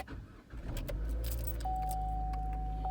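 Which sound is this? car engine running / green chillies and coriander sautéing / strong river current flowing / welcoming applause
car engine running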